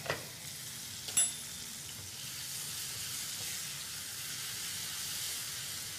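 Garlic, cumin seeds and whole dried red chillies sizzle in hot tempering oil, a steady bright frying hiss with a brief clatter near the start, continuing evenly without talk.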